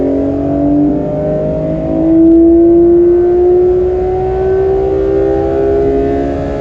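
A Porsche GT3 RS engine sings as it revs under acceleration in an intermediate gear at about three-quarter throttle, a loud, steady, rising high-pitched howl that climbs note by note with no voices over it.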